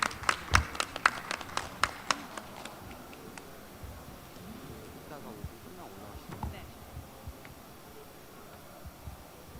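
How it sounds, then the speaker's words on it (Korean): Audience at a Korean startup showcase gives brief scattered applause welcoming the next presenter, with sharp claps in the first few seconds that quickly thin out into sparse taps and quiet room murmur. "박수로 맞아주시기 바랍니다."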